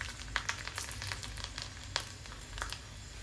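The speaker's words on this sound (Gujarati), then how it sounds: "તો થોડીક રાઈ અને થોડુંક જીરું નાખીશું અને વઘાણી થોડાક લસણના કટકા મેં કર્યા છે, થોડુંક લસણ પણ નાખી દઈએ." Mustard seeds, cumin and garlic pieces in hot oil: a soft, steady sizzle, fairly quiet, with small popping crackles scattered throughout.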